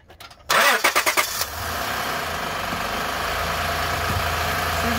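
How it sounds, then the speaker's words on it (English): A Honda Odyssey engine cranks in a rapid burst of starter pulses, then catches and settles into a steady, fairly loud idle that continues to the end. "Okay, start the car."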